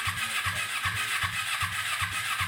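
A race mower's small engine runs steadily, its low pulsing exhaust beating in a fast even rhythm, loud and close with a rough, sputtering edge.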